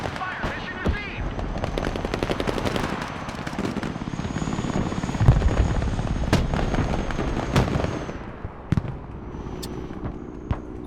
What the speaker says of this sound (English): Cargo helicopter approaching the DZ.